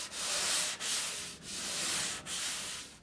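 Paint on a Honda Blackbird petrol tank is hand sanded with long, even strokes, a close, steady rasping scrape repeating about four times with short dips between passes.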